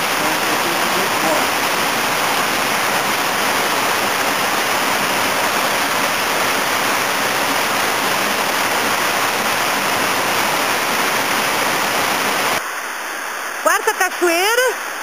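An 18-metre waterfall in the Churriado canyon roaring loud and close as a constant broadband rush, cutting off abruptly near the end, where a voice speaks briefly.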